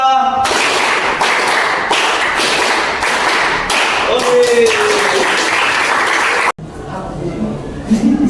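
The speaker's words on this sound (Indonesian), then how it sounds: "Tepuk tangan 1 kali, tepuk tangan 2 kali, tepuk tangan 3 kali, tepuk tangan 4 kali" A class claps hands in counted rounds, loud rapid claps ringing close, with voices chanting over them before a sudden cut to quieter room sound.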